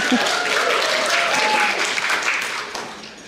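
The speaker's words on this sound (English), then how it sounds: "So round of applause for Decatur." An outdoor book festival crowd in Decatur claps and cheers steadily at moderate volume, a continuous wash of applause that tapers off gently toward the end.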